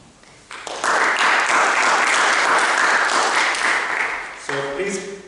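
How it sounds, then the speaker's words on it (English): Audience applause at a speech evaluation meeting, breaking out quickly into a dense, steady clatter of clapping for several seconds before fading, with a person starting to speak near the end. "please give a big round of applause to Melody Baker"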